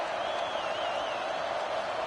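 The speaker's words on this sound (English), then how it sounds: "Listen to the crowd energy here in the early going." Steady, dense roar of a stadium crowd at an American football game, a continuous wash of cheering and noise with no break, moderately loud and sustained throughout.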